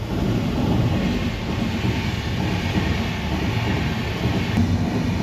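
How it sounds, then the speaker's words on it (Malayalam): A train rumbles steadily past a nearby railway level crossing, a continuous heavy low roar of wheels on rails with no talking. "നമ്മളെ തടഞ്ഞു വെച്ച ട്രെയിൻ പോകുന്നുണ്ട് കേട്ടോ"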